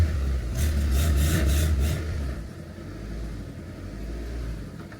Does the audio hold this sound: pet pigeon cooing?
no